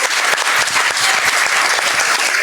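Dense, steady applause from an audience at a climate change science talk, greeting speaker Mercy Borbor; many hands clap together, loud and continuous throughout with no voices over it.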